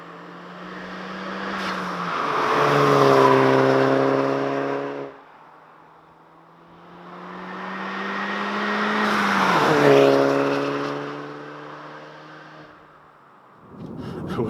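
A 2017 Hyundai Elantra Sport revs hard twice, its engine note climbing and falling on each rev, with a low idle between them. The exhaust crackles as each rev falls away. The car sounds close and loud, with no talking.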